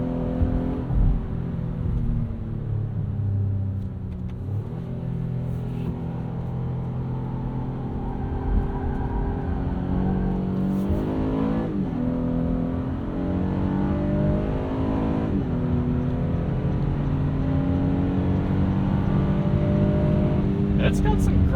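A 2022 Honda Passport Trailsport's V6 engine revs hard and climbs through its range, loud and throaty with a steady low drone, while the driver talks over it.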